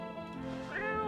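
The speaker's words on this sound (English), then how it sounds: "Where's the cat?" A single cat gives one drawn-out meow with a rising, wavering pitch, close and fairly soft, with no talk.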